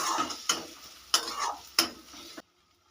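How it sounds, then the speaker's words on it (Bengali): Garlic-ginger paste and tomato fried down in a pan, with four sharp stirring scrapes over a steady close sizzle, then the sound cuts off abruptly. "আদা রসুন ও টমেটোটা খুব ভালো করে কষিয়ে নিয়েছি"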